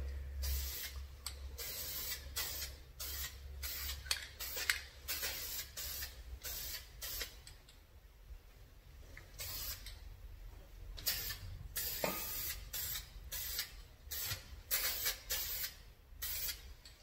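Self-etching coating sprayed onto Dodge Ram sway bar and brake caliper parts, heard as a run of close, loud hissing aerosol bursts, some short and some longer, separated by brief pauses with a low hum beneath.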